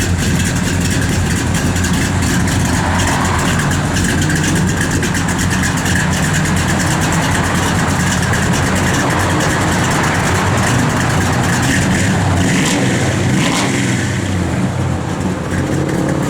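A 1987 Chevrolet R10 pickup truck engine idles loud and close with a steady deep rumble, the revs rising briefly near the end before settling back, with no talking.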